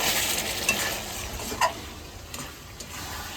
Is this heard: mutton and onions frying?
yes